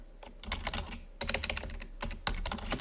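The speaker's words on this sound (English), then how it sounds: "we're going to type in" Rapid clattering keystrokes on a computer keyboard while a spreadsheet cell is filled in, close and fairly loud, coming in three dense bursts separated by brief pauses, with no voices.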